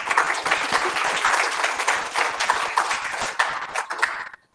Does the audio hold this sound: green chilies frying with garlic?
no